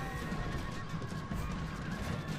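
Horses neigh and whinny amid a video game cavalry battle against Berber forces, their calls rising over a busy, rumbling din of combat.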